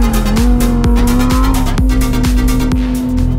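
A Lamborghini Huracán Tecnica with its 640-horsepower V10 roars loud and close on a race track, revving hard with rapid gear-change interruptions and some tire noise, with no voices.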